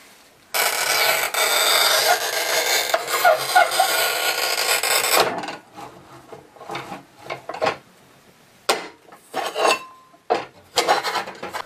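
A manual tile cutter scores a ceramic tile with a long, loud, continuous grinding scrape lasting several seconds, followed by a series of sharp snaps and knocks as the tile is broken along the line.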